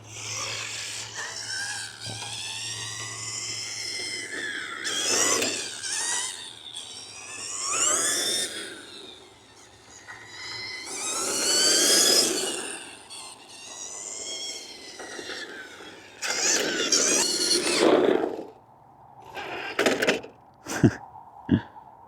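A Tamiya Lunch Box RC monster truck drives past several times outdoors, its high electric motor whine rising and falling in pitch as it comes near and goes away, with sharp knocks near the end.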